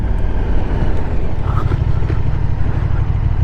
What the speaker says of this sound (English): But that's not to take away from this bike's exhaust sound, because it sounds really, really good.